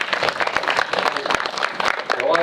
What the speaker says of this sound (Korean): 박수 한 번만 주시면.